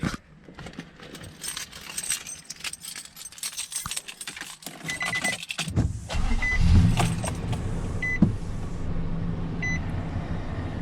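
Keys jingle and click, then a 2005 Nissan Titan's engine cranks and catches, settling into a steady close idle with a few faint electronic beeps.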